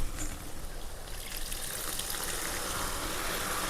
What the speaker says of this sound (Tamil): இப்போ நம்ம புளி தண்ணி சேர்த்துக்கலாம்.